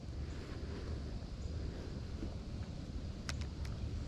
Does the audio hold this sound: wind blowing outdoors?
yes